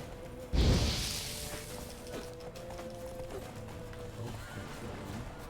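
Horses in The Witcher video game, a single sharp whinny bursting out near the start, followed by faint, steady hoof clopping and game ambience underneath.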